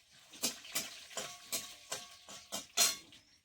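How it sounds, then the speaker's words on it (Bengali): Whole coriander, nutmeg, mace, cardamom, cloves and cinnamon fry in oil, giving a soft, close sizzle broken by regular stirring scrapes about three times a second. "আমি এই মশলাগুলো একটু ভেজে নেবো তেলের মধ্যে"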